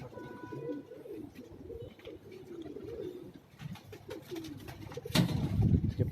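Pigeons coo in soft, low, repeated throaty rolls close by, a few overlapping birds murmuring continuously, with a louder rustle near the end.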